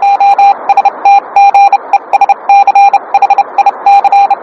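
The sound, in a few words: encrypted Morse code radio signal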